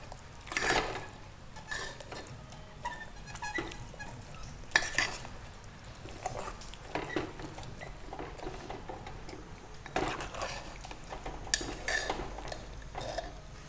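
Kaleji (liver) mixture being stirred in a pan, with repeated scraping strokes of a spoon against the pan over a soft, continuous sizzle, heard close and fairly quiet.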